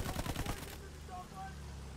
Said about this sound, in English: His HE cannon does a lot of damage.